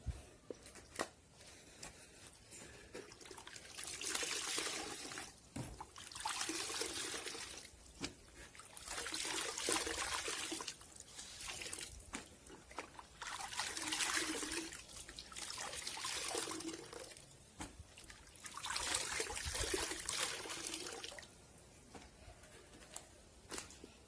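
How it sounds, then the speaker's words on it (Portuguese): Cloth diapers are pressed, not wrung, as they are lifted out of a bucket of water, giving bursts of trickling and dribbling water that come and go in rhythmic waves of several seconds, soft and close. "eu retiro as fraldinhas de dentro do balde com água, sem torcer, apertando."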